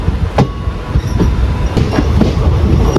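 Passenger train running fast on a loop line in Kerala, a steady loud rumble of wheels on rails with sharp periodic clacks over joints and faint squeals, no voices.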